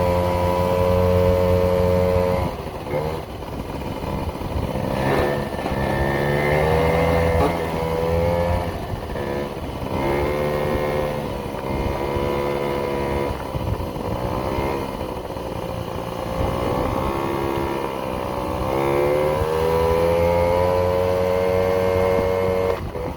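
A Yamaha JOG scooter's small engine buzzes steadily while being ridden, its pitch rising and falling with the throttle in a continuous, loud drone close by, with no talking.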